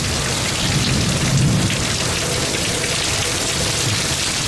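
Steady, heavy rain pours down in a dense, constant wash of noise, with a slightly louder gust of downpour early on and no voices.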